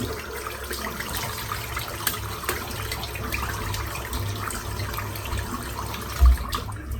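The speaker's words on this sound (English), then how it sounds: "Give it a real good rinse out." Running tap water rinses a straight razor after a beard shave, a steady close hiss of water with slight splashing and one brief knock near the end.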